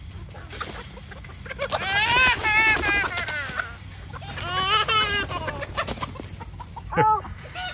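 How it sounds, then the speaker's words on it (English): Roosters and hens cluck and squawk close by on a farm, two long bursts of loud layered calls and a short final squawk over outdoor noise, with a voice speaking briefly. "But look at those roosters, man."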